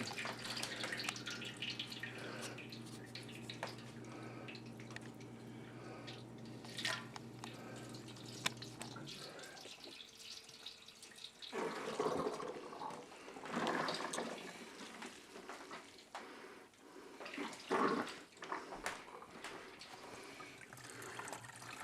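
Wort drips and trickles from a lifted bag of grain during all-grain saison brewing. Close, steady draining for several seconds, then sparser, quieter drips, with no talking.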